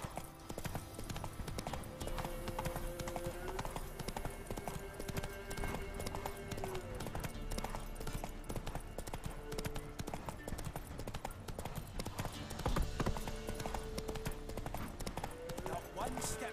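Horse hooves gallop in a steady, fast clip-clop rhythm throughout while riding in The Witcher 3, mixed with game music and effects as someone talks over it.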